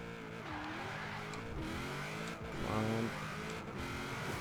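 A Toyota 2000GT in Forza Horizon 4 revs hard and accelerates, its engine note climbing through gear changes with tire squeal, loud and continuous, with no voices.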